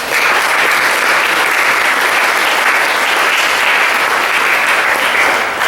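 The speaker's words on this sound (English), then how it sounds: "Please give that committee a round of applause." A room full of people applauds a historic sites committee, dense, steady clapping at full volume, loud and close throughout with no talk.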